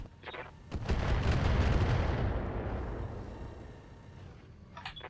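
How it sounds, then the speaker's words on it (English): A rumbling volley of long-range missiles is launched from an LRM tank in the BattleTech Roguetech video game, opening with sharp launch cracks, then a loud, sustained roar that slowly fades, with a few brief clicks at the end. "last shot with our LRM tank"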